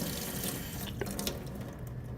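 Tap water runs steadily into a lab sink while volumetric pipettes are rinsed, a close, continuous rushing splash with a few brief clinks and shifts in the flow.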